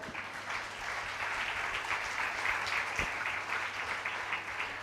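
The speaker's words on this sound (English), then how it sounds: "I think they deserve a big applause." Audience at a women's league event at Raj Bhavan gives sustained applause, a dense, even wash of many hands clapping for about five seconds with no voices over it.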